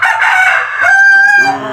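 A big chicken, a rooster or hen, gives one loud, close crow that stretches into a long, strained cock-a-doodle call lasting under two seconds, with no voices.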